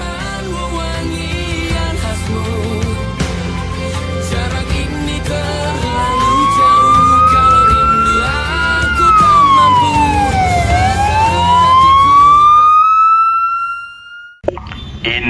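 An ambulance siren wails in a rising and falling sweep, loud and close over a bed of dramatic music in an Indonesian drama scene, then cuts off abruptly near the end.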